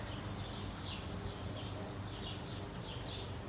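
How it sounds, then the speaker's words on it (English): Faint birds chirping in the distance, short calls repeating every second or so over a soft steady hiss. "Can you hear the birds?"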